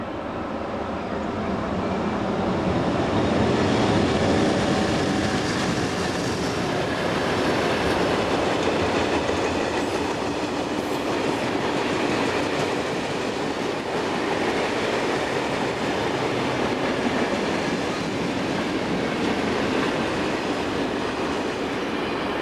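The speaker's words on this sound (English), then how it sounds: "1142-668 and 1044-050 doublehead this westbound freight." A westbound freight train doubleheaded by two electric locomotives rumbles past at steady volume, its wheels and wagons making a continuous broad roar with faint clatter for over twenty seconds.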